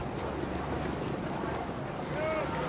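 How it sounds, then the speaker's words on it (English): Two rowing eights race down the Henley course on the Thames, the boats producing a steady rushing whoosh of water against hulls, loud and continuous with wind noise and no clear talk. "you can hear it, the sort of whoosh as they propel forwards"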